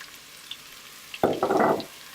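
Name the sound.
sweet potatoes frying in a hot pan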